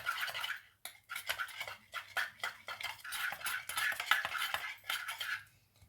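A spoon clinks and scrapes steadily against a cup or small bowl, stirring a honey-based home cold remedy for a baby, with a continuous, close run of metallic scraping and taps and no talk.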